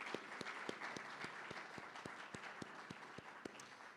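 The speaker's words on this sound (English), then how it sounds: "Give her another round of applause." Audience at a college Veterans Day ceremony applauding, with rhythmic, evenly spaced claps standing out over softer scattered clapping, fairly faint and steady.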